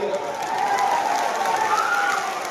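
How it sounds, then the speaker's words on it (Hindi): A large crowd at an outdoor political election rally in Supaul breaks into steady, dense applause, a continuous wash of clapping with faint cheering, heard at a distance. "जोर दी ताली बजाइए।"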